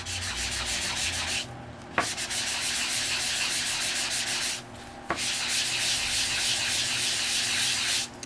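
Christmas Layer It Up washi tape is sanded for a distressed look, a steady close rasping scrub of abrasive on tape that runs almost continuously, with two brief pauses in the strokes.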